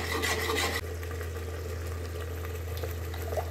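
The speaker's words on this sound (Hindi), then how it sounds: "अब ये मिक्सी वाला पानी भी इसमें डाल दिया मैंने।" Water from rinsing a mixer grinder jar pours into a pot of methi aloo sabzi with a splashing rush for under a second, then settles into a steady bubbling, gurgling hum.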